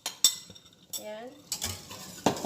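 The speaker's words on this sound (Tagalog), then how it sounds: "I-stir po natin" A utensil stirring chicken curry in a pot, a few separate metallic scrapes and clinks close up, with brief speech in the middle.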